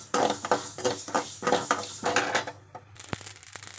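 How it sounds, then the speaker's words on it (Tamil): Mustard seeds spluttering in hot oil, heard as a rapid, irregular crackle of small pops in close, busy bursts that thin out toward the end, with a couple of sharper clicks. "கடுகு நல்லா பொரியுது"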